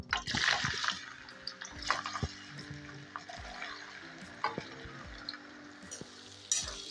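Cut potatoes frying in oil in a pan over a medium gas flame, stirred constantly: a steady close sizzle with repeated scraping and clattering stirs throughout.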